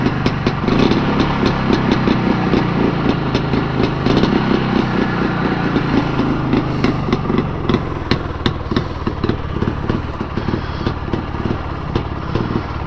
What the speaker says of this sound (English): Good old two strokes